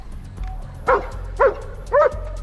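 A police sniffer dog barks three times in quick succession, loud and close, over a low background rumble.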